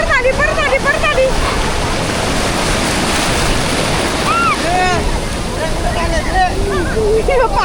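Sea waves break and wash continuously on Kashid beach with loud wind buffeting the microphone, while excited voices call out over the surf.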